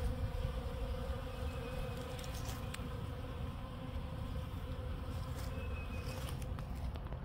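Bees swarm around a pollen feeder near a compost bin in January, their steady, dense buzzing continuous and close throughout with no talking.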